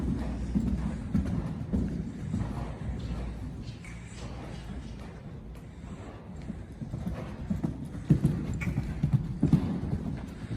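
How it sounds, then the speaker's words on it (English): A horse canters around an arena, its rhythmic hoofbeats thudding in repeated three-beat patterns at moderate distance, growing louder near the end, with no voices. "then let her have a canter, Morgan."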